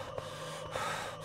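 Short, quiet gasping breaths of the boy character in the video game Inside, two soft inhalations heard close over a low, steady background hum.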